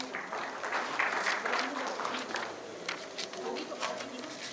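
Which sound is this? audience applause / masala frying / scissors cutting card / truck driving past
audience applause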